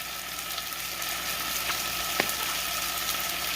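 Leftover noodles warm in a hot pan, making a quiet, even frying hiss with a couple of small clicks, steady throughout.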